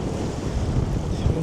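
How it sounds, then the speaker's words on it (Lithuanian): Mediterranean Sea waves washing onto a sandy beach near Leucate in France, a soft continuous surf wash mixed with wind buffeting the microphone, heard alone without voices. "Viduržemio jūra."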